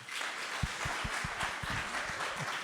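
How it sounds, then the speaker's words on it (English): Applause from a conference audience thanking two panels rolls on steadily, with a few close, distinct claps standing out over the broad wash of the crowd. "Let's give them a round of applause, please."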